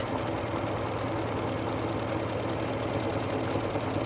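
A Bernina sewing machine stitches a buttonhole in heavy fabric with a steady, close, rhythmic mechanical whir and fast needle pulses that run unbroken, with no voices.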